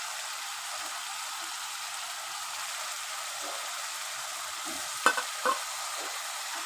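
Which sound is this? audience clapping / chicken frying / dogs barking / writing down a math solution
chicken frying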